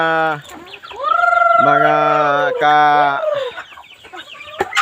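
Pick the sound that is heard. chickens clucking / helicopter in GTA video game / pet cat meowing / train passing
chickens clucking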